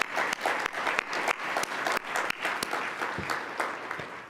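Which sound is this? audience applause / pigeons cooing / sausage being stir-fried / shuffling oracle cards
audience applause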